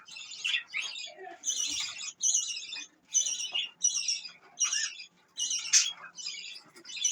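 Budgerigars chirp and squawk in rapid, repeated bursts, a lively chattering flock close by, with short pauses between calls.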